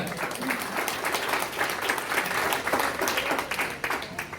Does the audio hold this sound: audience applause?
yes